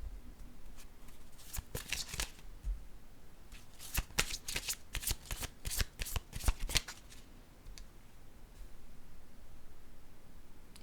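Tarot cards being shuffled by hand: repeated quick riffling and flicking bursts, clustered in the middle of the clip, close and crisp over faint background hiss, with no talk.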